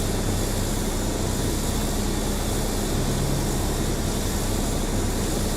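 A propeller airplane engine in a flight video game drones at a constant, loud, even pitch, with a steady buzzing hum and no talk over it.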